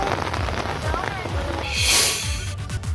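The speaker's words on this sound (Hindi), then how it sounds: "भारी बारिश और रानीखेत नेशनल हाईवे पर मलबा आ गिरा" Heavy rain falls steadily over a road on a national highway, a dense hiss with a brief louder swell, under a continuous background of speech.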